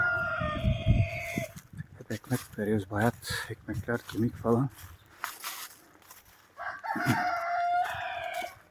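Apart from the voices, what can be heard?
chickens and rooster in the coop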